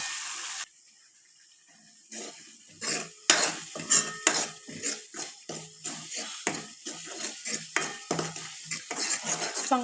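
Onion, tomato, garlic and ginger masala paste frying in a pan while a spoon stirs it, with repeated rhythmic scraping and clinking strokes over a steady sizzle, close and fairly loud after a short quiet start.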